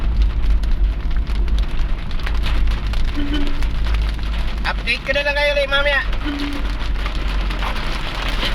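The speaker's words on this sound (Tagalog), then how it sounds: "Yan mga ka-WhatsApp, biglang umulan." Sudden heavy rain drums steadily and loudly on a vehicle during a Lalamove delivery drive, a dense continuous hiss under someone speaking, with a few short tones cutting through.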